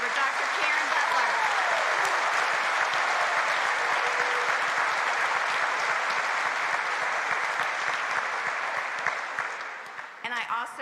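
Applause from an audience at a college nursing pinning ceremony, a broad, even wash of clapping in a large room that runs for about ten seconds before tapering off, with faint voices mixed in.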